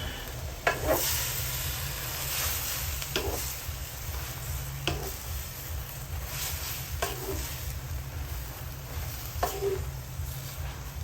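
Kangkong and mushrooms for Kapampangan-style adobo are stirred in a pan over steady sizzling, with several distinct scraping strokes at irregular intervals and no talking.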